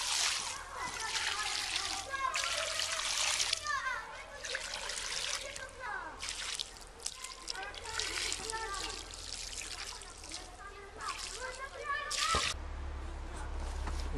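Water trickles, splashes and soaks into the soil around a transplanted mulberry tree, in uneven bursts of pouring and dripping, fairly close, with no talk.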